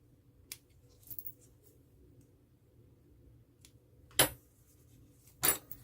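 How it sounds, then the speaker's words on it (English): A few sharp scissor snips trimming loose threads at the end of a sewn zipper, spaced apart, with two louder crisp cuts near the end over a faint low background hum. "Trim all the loose threads."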